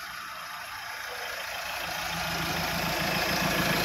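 A 2015 Mahindra XUV500 W10 engine idling with the bonnet open, a steady close mechanical hum and broadband whir that swells slightly louder over a few seconds, with no talk.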